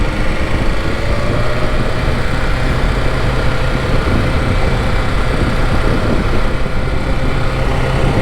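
A 2025 BMW S1000RR sport bike rides at low speed, its engine a steady, loud drone mixed with rushing wind noise from start to finish.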